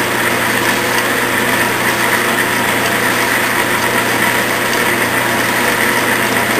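A Clausing metal lathe runs steadily during a final thread-cutting pass, giving a constant loud mechanical whir and hum with no breaks.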